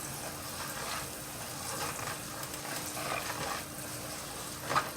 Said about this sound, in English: Just gotta fry. All you want it to do is just fry. This is the rice.